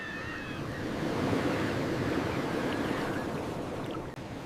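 Ocean surf washes onto a remote island shore in a continuous, fairly loud broadband roar, with steady churning and no distinct individual breakers, mixed with some wind.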